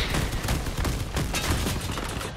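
Rapid gunfire from combat vehicles in the Crossout game, a dense fusillade of overlapping shots rattling continuously and fairly close, with no speech over it.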